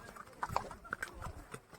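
Horse hooves clip-clop in a quick, uneven rhythm during a ride through Baisaran valley near Pahalgam, Kashmir, close and moderately loud over faint outdoor background noise.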